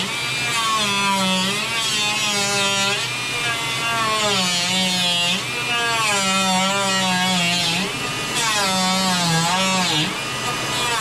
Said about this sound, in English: We'll use all the tools we have to hand and slowly grind it away.